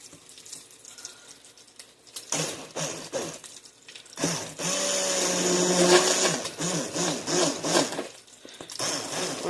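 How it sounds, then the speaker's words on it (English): An immersion blender whirs through hot cauliflower soup in a home kitchen. After quiet stirring and clinks, it runs loud and steady with surging bursts, close by, and nobody speaks. "I'm going to take my immersion blender"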